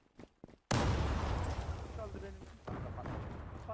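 Loud close burst of gunfire in a Counter-Strike style team match, a sudden blast followed by a sustained rumbling volley, with players chatting over it.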